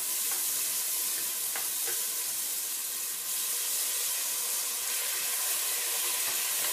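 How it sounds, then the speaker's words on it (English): Beef and tomato paste frying in a pan, a constant close sizzling hiss with faint scraping ticks scattered through, no talking. "So go ahead and fry that up"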